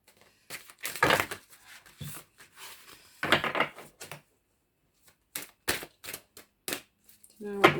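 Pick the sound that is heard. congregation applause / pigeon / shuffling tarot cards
shuffling tarot cards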